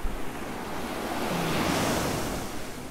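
Sea waves wash against the shore of a remote deserted Pacific island, a loud continuous roar of surf with wind buffeting the microphone, swelling slightly in the middle.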